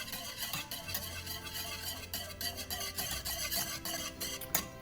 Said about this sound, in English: take it off the heat entirely and continue to whisk